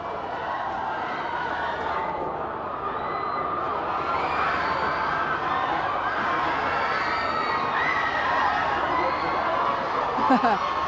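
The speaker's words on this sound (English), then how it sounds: "the screams, as you may well be able to work out, mean that Robert Pattinson's finally broken free from the autograph hunters" Fans at the 2010 BAFTA red carpet scream and cheer for an actor, a dense, continuous crowd roar of high-pitched shrieks that holds steady and swells slightly toward the end.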